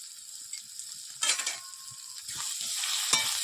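Kashmiri red chilli powder, hot chilli powder and ground cumin fry in oil with a splash of water for a tangra fish curry, a close, steady sizzle broken by one louder hissing burst midway and light stirring clicks.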